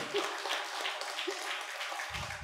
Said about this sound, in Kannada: ಎಲ್ಲರೂ ಒಂದ್ಸಲ ಜೋರಾಗಿ ಚಪ್ಪಾಳೆ ಹೊಡೀರಿ.